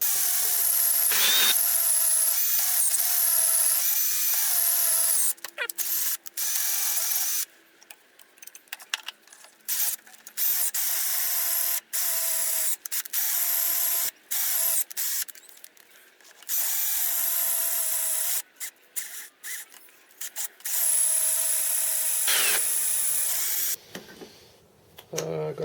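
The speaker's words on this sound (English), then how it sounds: "Just putting drilling this out to 12 mil so the boring bar will go down." A power drill whirs in repeated bursts, drilling a milling machine spindle bore out to 12 mm, starting and stopping with short pauses, with intermittent clicking and a voice briefly heard between runs.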